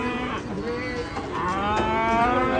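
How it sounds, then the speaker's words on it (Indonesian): A cow with towering horns moos loudly and at length while being unloaded from a truck, a single drawn-out bellow rising and wavering close by. "Kita turunkan guys sapi bertanduk pencakar langit ini."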